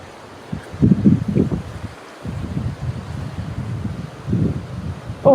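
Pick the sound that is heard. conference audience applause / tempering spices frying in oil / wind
wind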